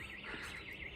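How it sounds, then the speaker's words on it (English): An alarm sounds faintly and steadily with a high, wavering warble that rises and falls in a slow, even cycle. "That's the alarm."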